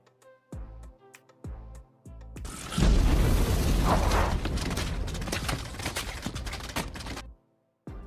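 In the film Land of the Lost, after several ticking mechanical pulses, a loud booming explosion erupts as a frozen dinosaur blows up, roaring for a few seconds before cutting off abruptly.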